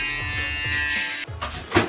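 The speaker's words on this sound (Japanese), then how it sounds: "ちょっとひげ剃りしても大丈夫ですか？" Electric shaver running close by, a steady buzzing hum that cuts out partway through, followed by faint handling knocks and rustles, with no speech.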